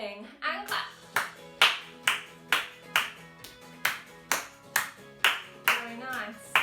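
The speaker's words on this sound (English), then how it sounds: "We're going to start by clapping and clap." Small children, ages 2 to 5, clap in a creative dance class, a regular beat of roughly a dozen crisp claps, close and clear, with an instructor's voice calling out over them.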